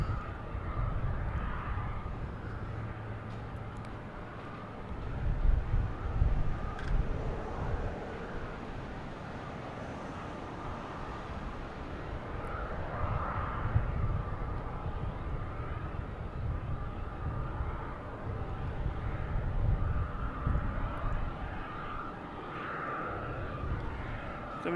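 An airliner landing at Boston Logan Airport with its gear down, a distant, low steady jet rumble and roar that swells and fades slightly under outdoor wind noise.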